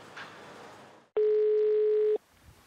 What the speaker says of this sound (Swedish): Jag ringer upp den polis i Mora som lett utredningen av Ayas misshandel.